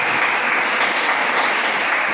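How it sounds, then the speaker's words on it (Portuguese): A church congregation breaks into loud, sustained applause, a dense steady wash of clapping that holds evenly throughout with no speech over it. "Dê uma salva de palmas bem forte para Jesus."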